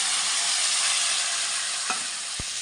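Ginger, cumin powder and turmeric paste, a little watery, frying in a pan with a steady broadband sizzle throughout and a couple of brief stirring knocks near the end.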